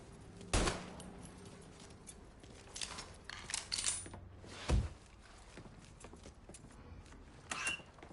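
Truck keys being picked up in the video game Mafia: two sharp, loud metallic knocks a few seconds apart, with scattered lighter clinks and rattles in between, all over a steady low ambient background with no talking.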